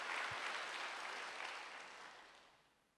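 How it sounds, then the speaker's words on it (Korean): A church congregation at a Wednesday worship service claps together, a broad wash of applause that starts full and gradually fades away over a few seconds. "빨리 박수 한번 해주세요."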